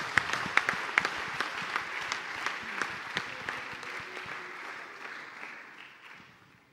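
A church congregation applauding during a service, with sharp individual claps standing out over a steady wash of clapping that gradually thins and fades away.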